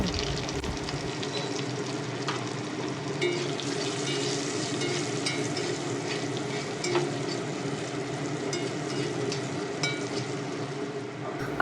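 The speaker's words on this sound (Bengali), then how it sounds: "লম্বা লম্বা করে কেটে রাখা আলুর টুকরোগুলো দিয়ে সামান্য হলুদ গুঁড়ো ও লবণ দিয়ে ফোড়নের সঙ্গে ভালোভাবে নেড়ে চেড়ে হালকা ভেজে নেব" Long potato strips frying with turmeric and salt in a spiced oil tempering, a steady dense sizzle with scattered crackles and occasional scrape of stirring, continuous and close with no voices.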